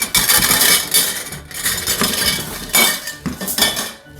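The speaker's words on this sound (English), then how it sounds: "Here's the cooking grill." Metal grate of a Weber 22-inch MasterTouch charcoal kettle grill handled close up, with dense clanking, scraping and ringing metal clinks in quick irregular bursts, loud and continuous with no talk.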